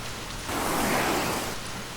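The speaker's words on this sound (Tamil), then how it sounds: "அதே மாதிரி மழை வந்துருச்சு" Rain falls near Periyar waterfalls at Karumandurai, a steady hiss that swells into a heavier downpour midway and then eases, close and fairly loud, with no voices.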